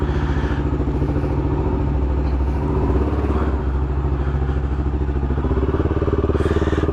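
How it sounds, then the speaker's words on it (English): A 1990 Honda GB500TT single-cylinder motorcycle engine runs steadily and loudly up close, with a continuous low thumping idle and no voices. "So the reason this is so much louder than most bikes, or than your standard GB500, which is actually a very quiet bike, it's got a thump noise to it."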